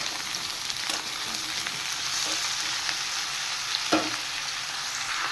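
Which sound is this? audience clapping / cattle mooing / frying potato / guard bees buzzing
frying potato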